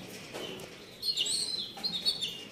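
A caged songbird offered by a bird seller gives a few brief high chirps and twittering calls at fairly close range over a quiet, faintly noisy room, with no talk.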